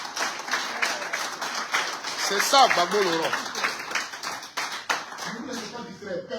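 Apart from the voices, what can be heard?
audience applauding and clapping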